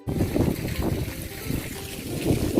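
Water trickles and splashes steadily from carved stone mouths around the base of a fountain at a castle, a continuous close wash of flowing water with faint outdoor ambience.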